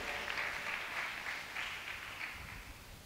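Steady audience clapping at a question-and-answer session with a Jain nun in Tikamgarh, a dense, fairly distant wash of many hands that fades slightly toward the end.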